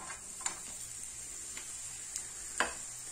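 Onion frying in oil in a skillet, a faint steady sizzle close by with a few soft clicks of stirring at intervals, brief and quiet with no talking.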